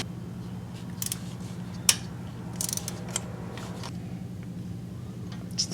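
Removing intake manifold nuts with a ratchet wrench during a head gasket replacement, heard as a few faint, sparse clicks and metallic ticks over a low steady hum.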